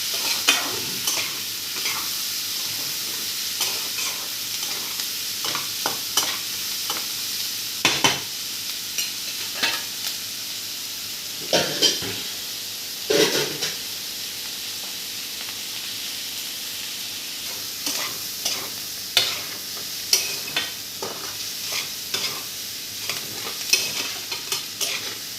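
Prawn curry made military-hotel style, with onions frying in a pan: a steady sizzle throughout, punctuated by repeated scraping stirs of a utensil against the pan.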